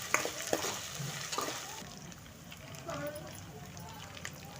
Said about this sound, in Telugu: ఈ విధంగా అల్లం వెల్లుల్లి పేస్ట్ పచ్చివాసన పోయి కలర్ చేంజ్ అయ్యేంత వరకు ఇలా కలుపుకుంటూ